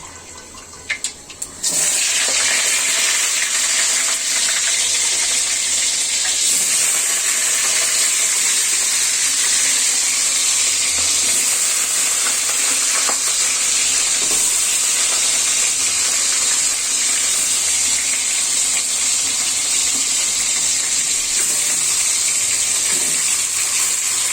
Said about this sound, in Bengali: এই যেটা গরম হয়ে এসেছে এলাচ সহ তারপরে দেখুন দর্শক আমি এতে মাছগুলো ছেড়ে দিচ্ছি